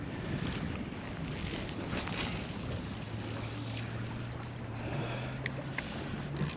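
Steady wind buffets the microphone out on open water from a fishing boat, a constant rushing hiss with a low hum running beneath it.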